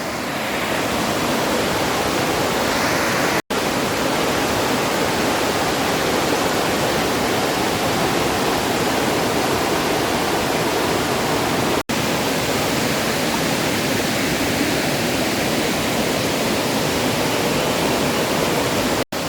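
Water at Kemmanaballi waterfall near Jalsoor, Sullia crashes down in a steady, loud, broadband roar that continues without a break, with no voices.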